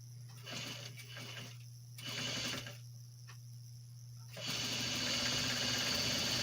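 A sewing machine back stitches on boxer shorts fabric in several short bursts, a close rattling whir that starts and stops repeatedly, then runs steadily at the end over a constant low hum.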